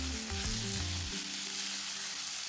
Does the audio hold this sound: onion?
yes